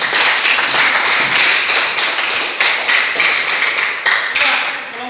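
Students in a heavy-equipment engineering classroom clap together, a close, loud burst of rapid overlapping claps that keeps going for several seconds before tapering slightly.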